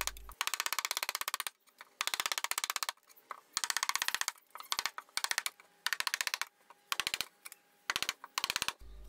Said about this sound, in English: use a mallet and chisel to remove the waste